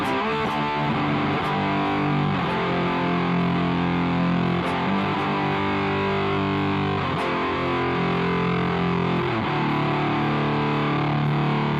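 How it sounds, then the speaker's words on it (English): Thick, saturated fuzz-distorted electric guitar chords from an Orange amp simulator plugin, loud and sustained with a buzzy, compressed edge, several strummed changes and notes left to ring. "everything about it sounds like a fuzz pedal"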